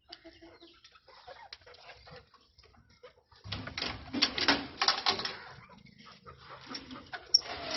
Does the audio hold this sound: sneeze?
no